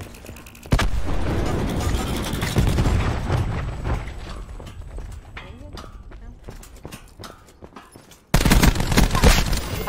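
A cluster grenade is thrown and goes off in Black Ops 4, a dense, loud wash of game explosions and gunfire-like crackle. A sharper burst hits near the start and another heavy blast comes near the end.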